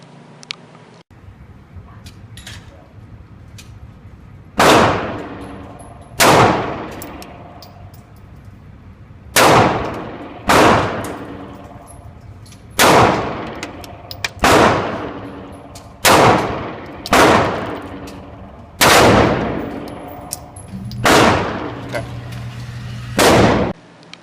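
Smith & Wesson M&P Shield pistol firing at an outdoor range, about a dozen sharp, loud reports spaced a second or two apart, each with a ringing decay, some coming in quick pairs.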